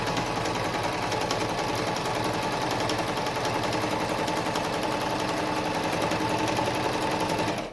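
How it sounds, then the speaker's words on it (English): A sewing machine stitches bias tape onto a cloth mask, its motor running steadily and its needle chattering in a fast even rhythm, close and continuous throughout. "So we'll just sew."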